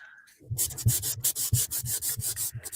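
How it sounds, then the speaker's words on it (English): Cheap dollar-store sandpaper rubbed by hand in steady back-and-forth strokes, a close, gritty scratching with regular rhythm and no voices. "This is what I get for using sandpaper from the Dollar Tree."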